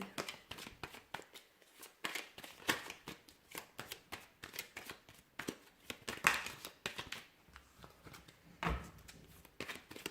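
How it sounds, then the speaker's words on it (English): Tarot cards are shuffled over and over with riffling, flicking rustles, close and fairly quiet, with brief pauses between bursts. "So we'll give the cards a shuffle here"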